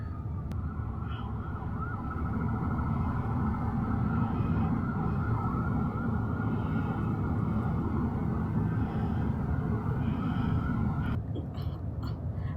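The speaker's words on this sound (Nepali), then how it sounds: "एम्बुलेन्स आयो क्या" An ambulance siren sounds downtown in Winnipeg, Manitoba, a steady wailing tone riding over heavy, constant traffic rumble with no one talking, holding at a moderate distance before a brief clatter near the end.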